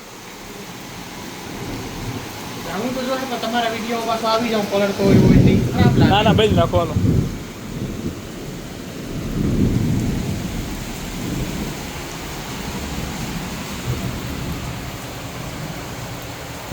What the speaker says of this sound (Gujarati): અહીં નીચે તો પાણી ભરાઈ ગયું છે જોરદાર વરસાદ ભરી ગયો છે